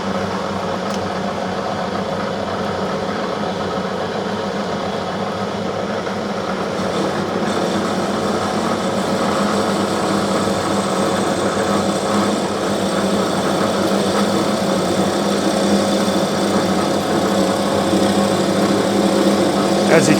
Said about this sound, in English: now getting set up for the parting off process. I'm going to have the coolant running.